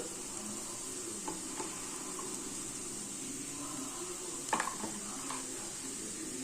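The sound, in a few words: frying spices with red chilli powder and turmeric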